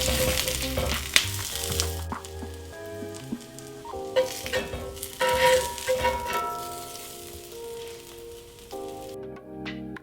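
Onions hit a hot griddle beside a smash burger and set off a steady frying sizzle with crackling bursts, running under a bed of tonal background music.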